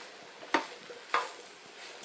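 Mushrooms seasoned with salt and pepper are stirred in a pan, giving two distinct scraping clatters about half a second apart over a soft, low background hiss, with a faint third knock at the very end.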